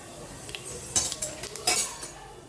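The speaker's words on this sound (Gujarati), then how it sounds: "એમાં આપણે જીરું એડ કરીશું." Cumin seeds go into hot oil in a pan already holding onion, garlic and capsicum, giving a soft sizzle with a few close clinks of a utensil against the pan.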